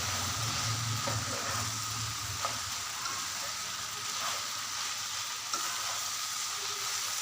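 Okra fries in a pan with a tablespoon of garam masala stirred in, giving a steady close sizzle with faint scraping as the mixture is mixed, and no voices.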